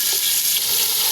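Chopped onion hits hot cooking oil with garlic in a pot, giving a loud, dense, continuous sizzle up close, alone without any voices.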